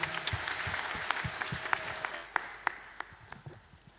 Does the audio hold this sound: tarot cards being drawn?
no